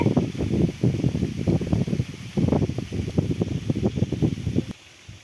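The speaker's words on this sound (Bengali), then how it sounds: "অনেক বাতাস বইছে" Strong wind blows under a banyan tree beside a river, rumbling and buffeting close to the microphone in rapid irregular gusts, then cutting off abruptly near the end.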